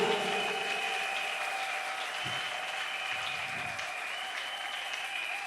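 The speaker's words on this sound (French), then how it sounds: "betela nzambe na maboko" A church congregation claps in acclaim of God at a closing revival service in Mongafula, Kinshasa: steady, dense applause that fills the whole stretch at an even level, with no talking over it.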